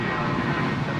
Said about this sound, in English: we've got a shout out also to the JD Life, just as the Jetstar off to Melbourne down on the Milk Run gets away there at 16 right